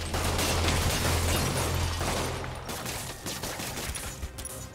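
Thugs firing guns at Spider-Man in the Spider-Man PS4 game, a dense, loud burst of rapid gunfire that fades into scattered shots and clatter.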